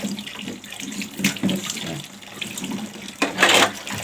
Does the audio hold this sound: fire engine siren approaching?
no